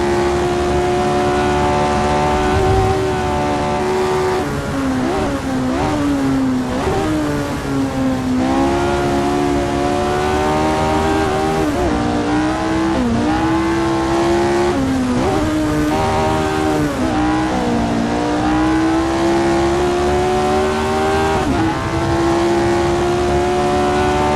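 A race car engine drones loudly and continuously from close up, its pitch climbing and dropping through repeated gear changes over a long run.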